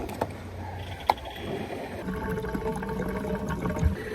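A sailboat moving through water, heard as a steady wash and gurgle of water against the hull with a few sharp knocks, close and moderately loud with no talking.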